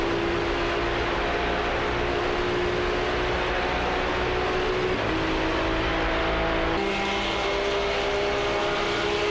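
Race cars on the Road Atlanta circuit in the iRacing sim, a continuous loud engine drone holding a steady pitch under power, with a slight shift in tone midway as the cars run on.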